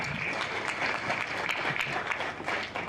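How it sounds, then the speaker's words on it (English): An audience at a Kenyan university forum on youth and anti-corruption claps for the panelists, a steady, lively patter of many hands sustained throughout at moderate loudness. "I'll request all of us to appreciate the panelists kindly with a handy clap."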